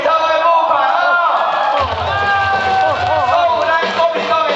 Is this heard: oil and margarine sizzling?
no